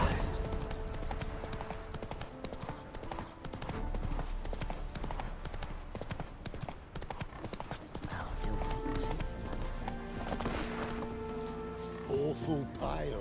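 Rhythmic clip-clop of the horse Roach galloping in The Witcher 3: Wild Hunt, steady hoofbeats throughout under game music and a voice talking.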